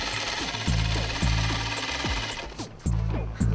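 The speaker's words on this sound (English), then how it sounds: "So we're going to stitch all the way down here." Sewing machine stitching a fitted jumper, running in steady bursts of rapid mechanical stitching with short pauses between runs, close and fairly loud.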